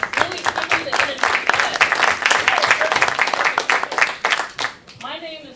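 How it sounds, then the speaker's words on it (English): A conference audience claps and cheers with rising energy, dense applause running steadily for several seconds before thinning out near the end. "Clap for yourselves for attending this conference."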